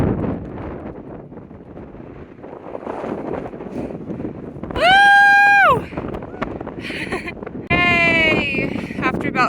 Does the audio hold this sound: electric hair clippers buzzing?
no